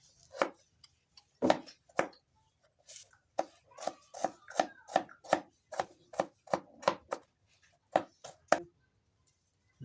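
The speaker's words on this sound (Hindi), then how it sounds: "अदरक को बरीक बरीक काट लेंगे।" A knife finely chopping ginger on a board, about twenty sharp, close knocks in quick, slightly uneven bursts with short pauses and no voices.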